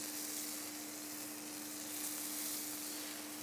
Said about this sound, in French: Et ensuite, on cuit la viande, j'imagine.